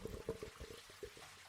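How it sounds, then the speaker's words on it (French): Household wastewater from sinks, showers and toilets flows out through a drain pipe, with a gurgling, dribbling series of irregular liquid pulses, quiet and close. "Ce qu'on entend là, c'est l'eau qui sort de chez vous."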